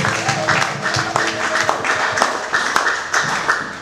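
A church congregation at an evangelical jubilee claps in a lively, rhythmic pattern, loud and close, with voices mixed in under the beat.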